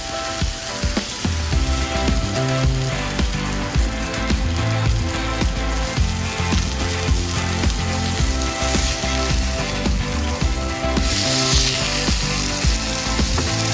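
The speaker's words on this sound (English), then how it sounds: "Time to place your bacon into your cast iron pan." Bacon wrapped around a grilled cheese sandwich sizzles in a cast iron pan, a loud, steady frying crackle lasting over ten seconds and mixed with sustained tonal sounds, with no voices.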